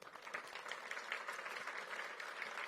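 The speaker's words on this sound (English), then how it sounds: "Please give him a round of applause." Faint, distant audience applause at the National Cherry Blossom Festival announcement, an even patter of many hands clapping with no voices on top.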